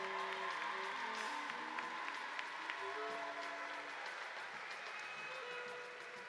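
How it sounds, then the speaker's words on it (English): Crowd applause at the Harris-Stowe State University spring commencement, a steady wash of clapping that carries evenly under a low sustained musical tone and fades slightly at the end. "Let's give them another round of applause."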